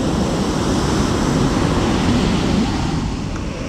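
Rough ocean surf at Playa Del Rey beach in Los Angeles, a loud, constant roar of crashing waves with wind buffeting the microphone, no voices.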